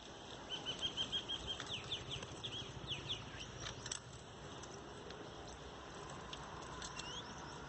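Bird wings flutter and flap in quick, soft bursts at a busy bird feeder early on, with faint high chirps over a low, steady background hum.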